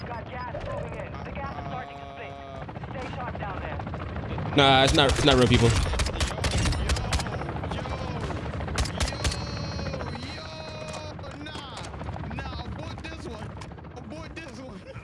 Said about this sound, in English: where's this helicopter? Is this helicopter real people?